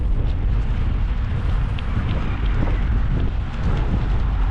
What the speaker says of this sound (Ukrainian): Так вітерець мене ще підталкує, чи в бок, чи в спину допомагав.